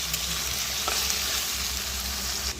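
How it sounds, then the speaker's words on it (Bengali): Onions and potatoes fry in a pan for Bengali mochar ghonto, a banana flower dish: a close, steady sizzle that carries on unbroken, with faint scraping from stirring and no talk. "পেঁয়াজের সাথে আলুটাও ভাজা ভাজা হবে।"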